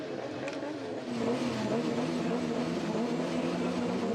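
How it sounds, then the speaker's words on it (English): Drift car engine revving hard at a Formula Drift Japan Round 5 event at Okayama, led by a black car, a steady loud drone that rises and holds its pitch throughout with continuous crowd-level noise. "last year, Mao Yamanaka, leading in this black vehicle"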